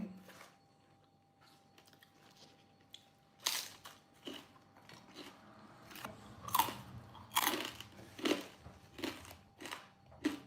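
Close, crisp crunching bites and chewing of papaya salad with crispy pork, in irregular bursts that grow louder and more frequent after a quiet start.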